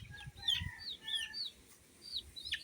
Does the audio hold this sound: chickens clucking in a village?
yes